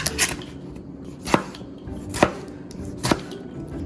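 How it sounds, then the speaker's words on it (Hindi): Knife chopping two medium tomatoes on a cutting board for kabab pulao: four crisp, sharp chops spaced roughly a second apart, close and clear, with no talking. "इनको भी आप चॉप कर लें"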